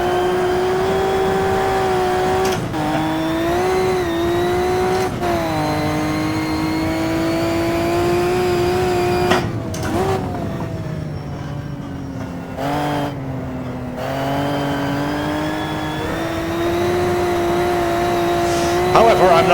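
A Maserati 250 race car engine drones steadily up close while driving, its pitch rising and dipping through shifts and revving, with brief dropouts and a voice now and then.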